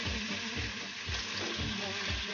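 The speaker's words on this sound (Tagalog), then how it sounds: "Gigisa lang po natin guys hanggat sa medyo mag-brown yung chicken" Chicken sautés in a pan with onion and ginger for tinola, making a continuous loud sizzle with soft repeated stirring scrapes.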